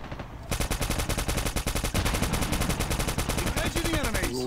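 Rapid automatic gunfire in the Call of Duty Mobile shooter game, a loud, continuous stream of tightly spaced shots that runs for several seconds without a break.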